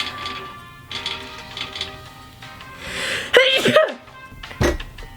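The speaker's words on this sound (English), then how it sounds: "I'm about to sneeze" A single sharp sneeze bursts out near the end, preceded by a few breathy sniffs and catches.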